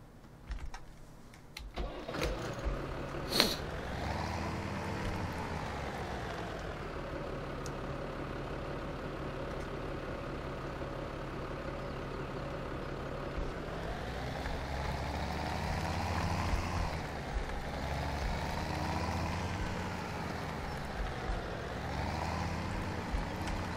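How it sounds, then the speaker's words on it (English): A tractor in Farming Simulator 17 cranks and starts after a few clicks, then runs as a steady low engine drone that swells and eases as it revs. "I think we're going to use the tractor."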